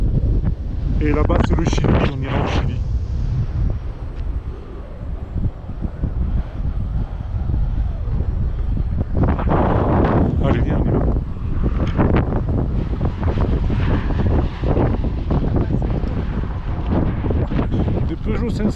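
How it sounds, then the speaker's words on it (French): Wind gusts across the high Salinas Grandes salt flats, buffeting the microphone with a steady low roar that swells and eases throughout, while a person talks over it. "Le vent se lève un peu, mais il fait pas froid."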